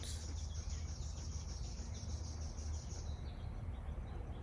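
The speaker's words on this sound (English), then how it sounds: "You hear the birds?" Birds and insects chirp outdoors in a faint, steady trill that fills the background, distant and continuous with no talking.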